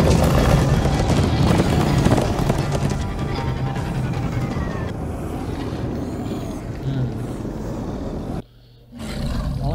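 Horses galloping in the Minecraft Story Mode video game, a loud, dense rush of hooves and roaring movement that runs continuously before a brief dropout near the end, with no talk over it.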